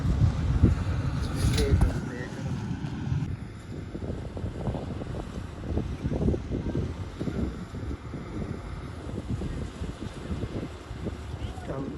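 A combine harvester rumbles in a wheat field, a steady low mechanical drone with wind buffeting the microphone, heard beneath someone talking.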